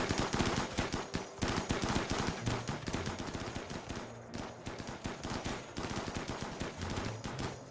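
Gunfire in the Rimworld video game: dense, rapid bursts of automatic fire rattle almost continuously, loud and close, with only a few short gaps between volleys.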